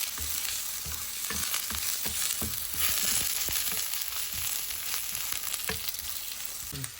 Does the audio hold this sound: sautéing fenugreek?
yes